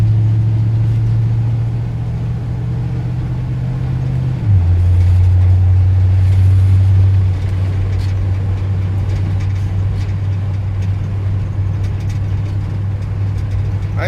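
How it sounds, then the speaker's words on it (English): 1978 Ford F100 pickup with a 4-speed manual driving along, a low steady engine drone that drops in pitch after a gear change, then holds a constant cruising hum, close and loud without talking. "the truck really rides good, drives good, shifts good"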